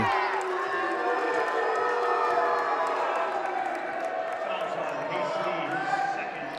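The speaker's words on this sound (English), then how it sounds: "that wasn't the crowd congratulating the ref on the call. They didn't care for it much" Basketball crowd at a regional third-place high school game between Thermopolis and Rocky Mountain reacts with steady, loud displeasure to a foul call, a sustained roar of voices and whoops filling the gym.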